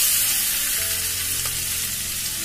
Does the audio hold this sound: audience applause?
no